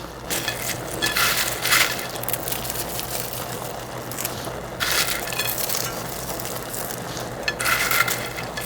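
Onions frying in oil for a garnish over basmati rice crackle loudly. Bursts of crisp sizzling swell and fade in waves over a constant bubbling bed, with no voices.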